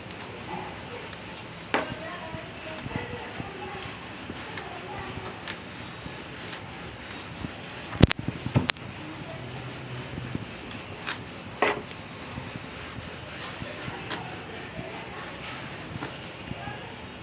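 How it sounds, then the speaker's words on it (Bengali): A board is wiped clean by hand in a classroom, giving soft, intermittent rubbing and scraping strokes with a few sharper knocks, faint beneath a teacher's talk. "তাহলে মুছে দিচ্ছি।"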